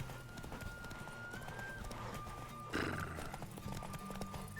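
Horse hooves clip-clop at a steady walking rhythm in The Witcher 3, close and moderately loud over a continuous game ambience of music and background noise.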